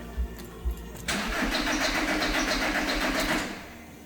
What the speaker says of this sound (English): It still cranks.